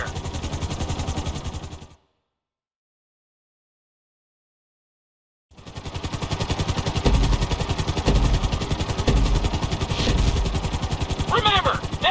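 Helicopter flying in GTA 5 during a Flight School speed course: loud, steady rotor chop and engine drone that cuts out completely for about three seconds, then returns at full strength.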